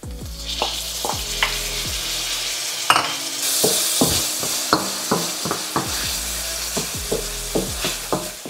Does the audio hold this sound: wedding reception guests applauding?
no